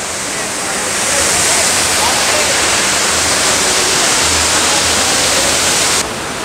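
Iruppu Waterfall in Karnataka, a loud, continuous roar of falling water close by, filling the whole scene with steady broadband rush.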